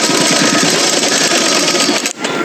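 A sewing machine runs steadily, stitching the fabric of a small doll's dress in a fast, even mechanical rattle that is loud and close, then briefly stops near the end before resuming.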